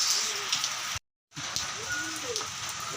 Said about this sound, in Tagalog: Ayan, umulan na naman mamaya na lang ulit kalapatid